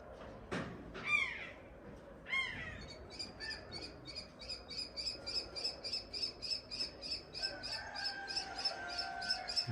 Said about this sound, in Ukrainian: Дуже гарні, добрі птахи.